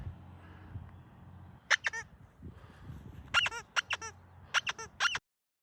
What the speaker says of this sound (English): Let's see what happens if I squeak her toy.